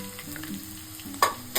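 Onion, green chili and curry leaves fry in oil for spicy puffed rice murmura chivda, giving a brief close sizzle with a couple of sharper stirring bursts.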